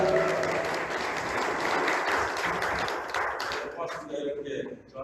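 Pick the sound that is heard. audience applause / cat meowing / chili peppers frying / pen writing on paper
audience applause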